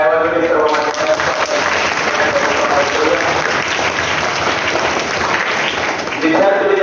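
Students at a school book-donation program break into loud, sustained applause, a dense crowd clapping that fills the hall and holds steady for several seconds before tapering.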